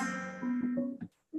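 A lush, sustained jazz chord with a sharp eleven rings out, held with a bright tense upper tone, then fades briefly before a soft new note enters.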